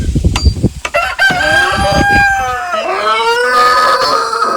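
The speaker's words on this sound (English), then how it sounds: "we got lots of happy chickens in here" Chickens cluck and squawk nearby inside a coop, then a rooster lets out a long, loud crow that rises and trails off.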